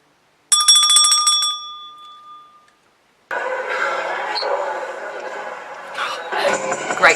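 A single bell is struck once and rings out with a bright, sustained metallic tone that decays over about two seconds, followed after a pause by a voice talking.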